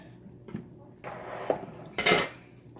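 A spoon stirs a seafood boil in a 16-quart pot, making sparse metallic knocks and scrapes followed by a louder splashy clatter near the end; close and fairly quiet, without talk.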